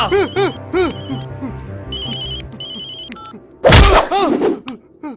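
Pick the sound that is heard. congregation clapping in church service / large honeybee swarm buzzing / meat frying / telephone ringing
telephone ringing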